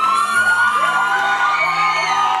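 Wedding guests at a Haitian wedding reception cheer, whoop and yell together, a loud sustained crowd roar with high whistling whoops rising over it throughout.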